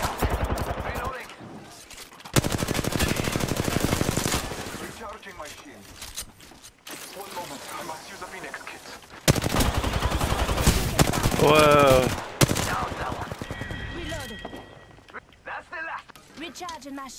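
Automatic gunfire from Apex Legends rattles in loud sustained bursts, dense runs of rapid shots broken by short pauses, with in-game callouts and voice lines layered over the fighting.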